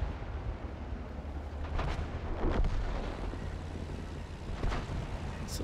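Tank cannon fire in World of Tanks, with a tier 7 light tank trading shots; a few muffled booming blasts rise over a steady low engine rumble, the loudest near the middle and another toward the end.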